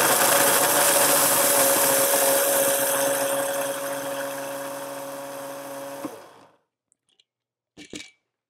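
A loud, harsh grinder grinding cocoa beans whirs steadily for about six seconds, then stops abruptly, followed by a couple of faint clicks and knocks.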